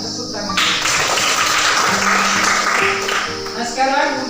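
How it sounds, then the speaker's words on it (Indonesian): Classroom applause from a group of students, a dense broadband patter that swells for about three seconds in the middle and then tapers off, with faint background murmur. "Ya, tepuk tangan."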